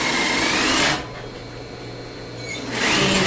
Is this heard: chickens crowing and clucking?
no